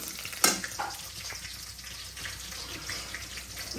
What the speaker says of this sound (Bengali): রসুনটা একটু কালার করে ভাইজে নিব